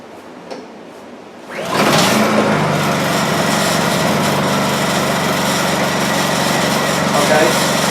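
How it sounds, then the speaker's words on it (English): A Honda EU2200i generator is started by a choked recoil pull: a quiet stretch, a rising rattle as the engine catches, then a loud, steady high-pitched engine drone running close by to the end. "Go ahead and choke it and pull on the recoil. And these generators seem to start really well."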